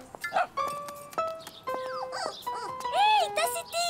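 A small cartoon puppy yips, barks and whimpers in short, bright bursts, with a few sustained animated cries near the end, set among light cartoon sound effects.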